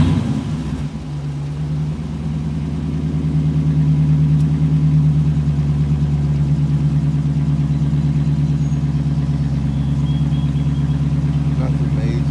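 Hemi 345 V8 with a straight pipe exhaust idles loudly and close with a deep, lumpy rumble, building to a steady throbbing drone over about twelve seconds.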